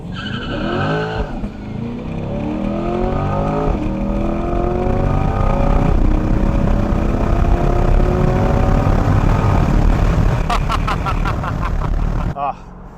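A 2020 Chevrolet C8 Corvette Stingray Z51 3LT launches hard from a stop without launch control, its engine roaring up through several rising gear pulls, loud and close, then cutting off abruptly.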